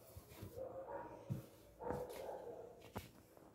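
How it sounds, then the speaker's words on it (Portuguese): A dog barking outdoors at a house, a few short, separate barks at a distance with quiet gaps and low background rumble between them. "O cachorro já tá latindo."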